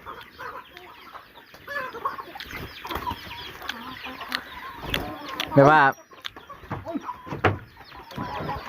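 Chickens cluck intermittently in the background while several people chat and eat outdoors, their voices dominating, with one brief louder squawk partway through.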